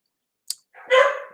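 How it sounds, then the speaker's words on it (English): A dog gives a single sharp bark indoors, loud and close, preceded by a brief click, with no talking. "There's no truck now, so I have no idea why she's barking."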